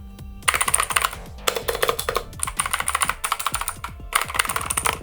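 Fast, clicky keystrokes on a 60% mechanical RGB gaming keyboard with clicky blue-type switches, a steady close-up patter of sharp individual key presses in bursts with brief pauses, no talking.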